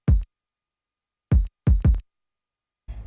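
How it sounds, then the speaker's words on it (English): Programmed kick drum hits thump deep and punchy in a sparse pattern: one hit, a long gap, then three quick kicks close together, with a faint trailing sound at the end. "So this song started off with this kick pattern."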